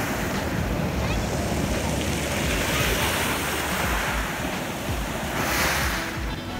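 Sea waves breaking on a narrow beach at Sochi on the Black Sea in late October, a rough sea with steady loud surf roar and rushing wash, with wind buffeting the microphone throughout.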